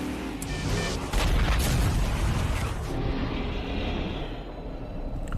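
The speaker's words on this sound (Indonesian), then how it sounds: "Lucas pun dapat membuat mobil milik Yuri terbalik dan meledak." Film sound of a race car flipping over and exploding in a death-race movie: a loud, dense rumbling blast with crashing debris that swells, then thins into a fading roar.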